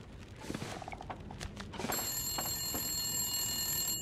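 A telephone rings in the video game The Long Dark, a bright repeating electronic trill that starts partway through amid quiet in-game footsteps and rustling.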